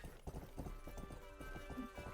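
Horse hooves clip-clop in the western video game Rustler, a quick, steady run of soft hoof beats at low volume with no voices.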